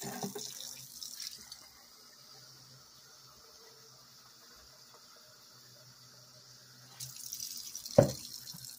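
Tap water with dish detergent runs into the canister of a cheap Harbor Freight sprayer. It is a faint rushing flow that is louder at the start and end, with a quiet stretch between and a sharp knock near the finish.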